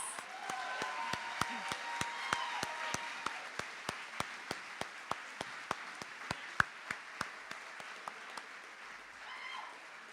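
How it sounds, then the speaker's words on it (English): Audience applause for award recipients at a university senior awards ceremony, a soft crowd clapping in the background with one louder pair of hands beating a sharp, steady rhythm close by. "Now, a round of applause."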